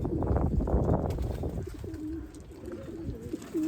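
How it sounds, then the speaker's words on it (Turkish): Pigeons coo softly and repeatedly near their coop, with low rounded calls and some faint rustling and shuffling close by. "Ben şöyle kümesi açayım. Dur açıl. Kuşları da bir yemleyeyim arkadaşlar."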